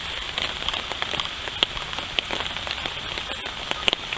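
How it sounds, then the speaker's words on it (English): Rain patters steadily on a tarp nearby, with scattered sharper drops ticking and crackling over a soft continuous hiss. "It's raining good enough to where I had to drop my tarp"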